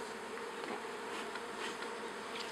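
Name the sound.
honeybees buzzing in an opened hive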